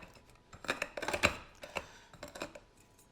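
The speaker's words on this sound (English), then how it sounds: "You can take the bottom of a saute pan and just crush your peanuts." Peanuts crushed under the bottom of a saute pan, a series of sharp crunching, cracking impacts in quick irregular bursts, close and fairly quiet, with no talking.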